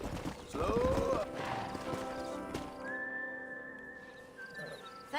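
Horse hooves clip-clopping in the western video game Red Dead Redemption, a close rhythmic trot with a brief whinny and a whistle tone, faint ambience around it.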